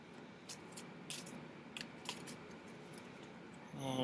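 Quiet, papery flicks and riffles of tarot cards being shuffled, several short bursts spread across a few seconds, close by and faint against a soft room hiss.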